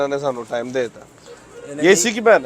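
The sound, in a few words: pigeons cooing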